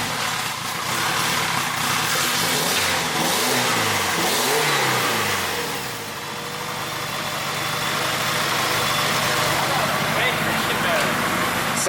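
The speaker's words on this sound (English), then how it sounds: "Sounds like a fully firing 4G to me." A 4G-engined AWD 1G GSX project car with a big turbo starts and runs, its engine droning loudly and steadily with a slight dip in revs partway through, while voices talk nearby.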